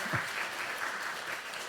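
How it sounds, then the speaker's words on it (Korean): A church congregation applauds at a Christmas thanksgiving service, a steady wash of many hands clapping for under two seconds. "이거 우리가 박수 칠 일은 아닌 것 같은데"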